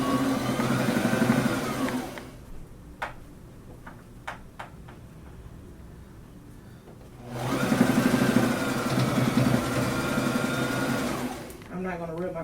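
A sewing machine runs in two steady bursts, stitching forward and back-stitching fabric while attaching a pattern piece, with a quiet pause of clicks between them and a person talking over the whirring motor.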